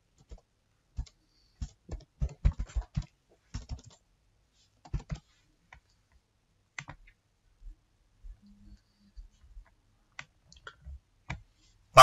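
Computer mouse clicks while working in phpMyAdmin to create a database, sparse sharp quiet clicks, some single and some in quick clusters, scattered across a quiet room.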